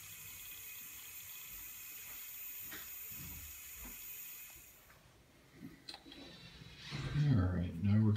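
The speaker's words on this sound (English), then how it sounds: "So I'm going to let it run and flush my lines out." Water pump for a CNC Shark spindle cooling system running and flushing antifreeze through its lines: a steady watery rush and hum throughout, swelling into heavier sloshing near the end, with someone talking under it.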